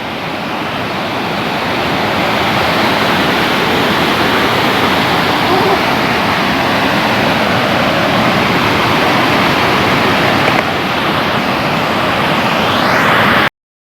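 A fast, swollen river rushes on without a break, its loud broadband roar holding steady and close for the whole stretch, with no voices cutting through.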